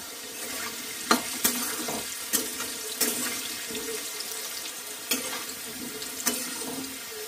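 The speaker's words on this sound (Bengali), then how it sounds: "আমি এই তেলের মধ্যে আলুগুলো ভেজে নেব।" Potatoes frying in oil with salt and turmeric for a prawn potato curry, a steady crackling sizzle with several sharp clinks of a utensil against the pan.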